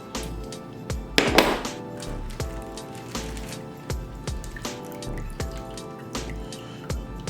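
Water drips and splashes as a sous vide cooker is drained after cooking steak, with irregular close drops and a brief louder splash early on.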